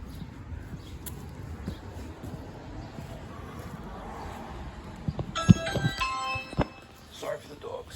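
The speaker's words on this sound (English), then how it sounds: "Let's go ring the doorbell again" A doorbell at a house rings with a bright chiming ding-dong, a cluster of ringing tones fading out after the press, over outdoor wind and background noise.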